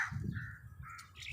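Crows being hand-fed by an Indian man give a couple of short, rough caws, faint and close, over a low background rumble.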